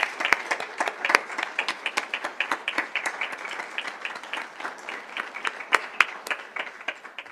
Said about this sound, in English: If you would stand so we can give you a big round of applause.